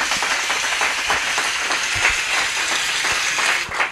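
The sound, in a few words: studio audience applause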